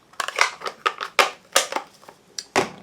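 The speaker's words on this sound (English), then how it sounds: "Very quickly with your paper snips." Paper snips cut through cardstock while making a card, a quick run of about eight crisp snipping crunches, close and distinct in a quiet room.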